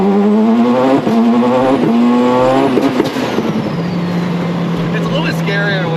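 Tuned turbocharged car accelerating hard on higher boost in the rain, its engine climbing loudly through the revs and then easing to a steady drone as it shifts.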